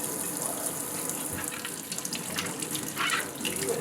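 Kitchen tap runs steadily into a sink while apples are rinsed under it, a close, continuous splashing stream with brief bursts as fruit moves through the water.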